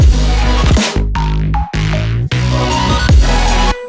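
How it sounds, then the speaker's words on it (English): A synth bass pluck plays a short solo passage in an electronic track, loud punchy notes with bright harmonic tops and pitch dips, separated by brief gaps, with no voices. "the bass pluck just like"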